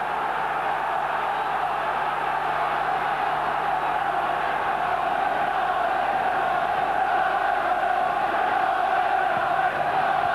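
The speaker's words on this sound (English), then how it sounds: "The crowd in raptures at Sunderland's display so far." Continuous roar of a large football crowd at Roker Park during a 1991-92 Sunderland v Middlesbrough match, a steady dense wash of cheering and chanting with no individual voices standing out.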